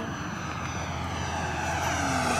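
An FMS Futura 80mm RC sports jet flies past, its electric ducted fan giving a steady, loud whine that builds slightly toward the end, with no talk over it.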